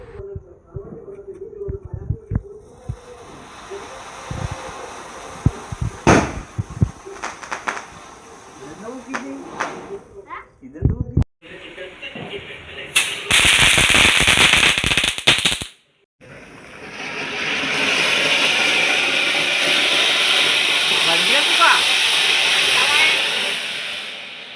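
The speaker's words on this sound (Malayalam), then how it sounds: "അപ്പോൾ ഇവിടെ ആരംഭിച്ചിരിക്കുന്നു ഗൈസ് വെടിപൊട്ടിക്കാൻ." Vishu celebration fireworks: sharp firecracker bangs pop irregularly over background voices, followed by loud hissing bursts and a long, steady spraying fizz of fountain-type fireworks.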